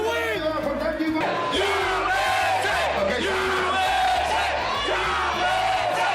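A bar crowd cheers wildly and yells in a dense, loud roar that never lets up, with a steady thumping music beat underneath.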